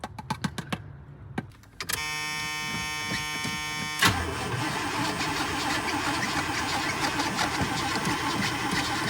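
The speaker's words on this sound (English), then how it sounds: "Well, it's cranking good." An old car engine that has sat unused for a while cranks steadily and loudly on its starter with a whirring drone, the tone shifting partway through and then continuing unbroken to the end.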